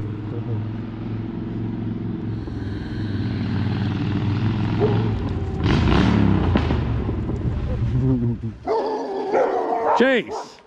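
Dogs bark at an arriving visitor, sharp barks and yips over a low engine rumble, growing louder toward the end as people talk.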